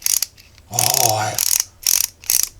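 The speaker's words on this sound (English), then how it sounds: "My solar turntable is getting some hard time rotating because this is a little bit heavier for this thing." A small solar-powered turntable straining under a heavy load: short mechanical whirring and grinding bursts in uneven pulses, including one longer strained grind, heard close up.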